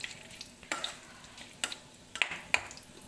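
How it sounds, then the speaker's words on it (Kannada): Spices frying in a pan with pineapple leaf, one clove and chopped garlic, soft sizzle under intermittent stirring scrapes and small sharp pops, close and fairly quiet. "ನೋಡಿ, ಇದನ್ನು ಫ್ರೈ ಮಾಡಬೇಕು ಈ ಥರ"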